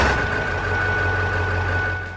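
A first-generation Ford Super Duty truck engine with high RPM runs steadily and loudly, a constant low rumble with a faint whine throughout, close up with no talking.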